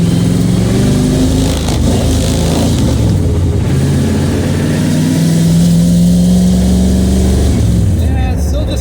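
A third-generation Camaro/Firebird V8 with suspected carburetor trouble idles and revs as it warms up, a loud, close, continuous rumble with a rising and falling drone throughout.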